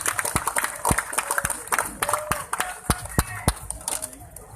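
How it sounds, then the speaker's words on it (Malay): A crowd applauding at a Malaysian political rally for a party candidate, steady scattered clapping from many hands, moderately loud and fairly close, continuing for several seconds. "berikan tepukan yang paling gemuruh untuk Ahli Parlimen Tanjung Malim"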